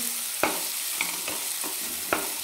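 Ground green masala paste frying in hot oil for an eggplant-potato dish, continuous close sizzling with occasional sharp clinks of a spoon stirring the pan.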